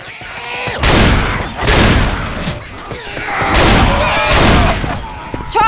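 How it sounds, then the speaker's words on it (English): Grenade launcher blasts in Left 4 Dead 2 during the Swamp Fever campaign: several loud, booming explosions about a second apart, each with a rumbling tail, amid dense in-game gunfire and battle noise. "Grenade launcher here."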